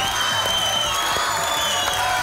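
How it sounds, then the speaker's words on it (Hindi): Studio audience on a comedy talk show applauding steadily, a dense wash of clapping and crowd noise throughout the short stretch, loud and continuous. "बस बस बस, थोड़ी तालियां बाकी प्रोग्राम के लिए बचाएं आप"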